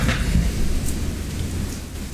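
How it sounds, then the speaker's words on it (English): Heavy rain pouring down in a steady hiss with a low rumbling undertone, continuous and fairly loud with no voices. "I'm getting a good old-fashioned downpour right now."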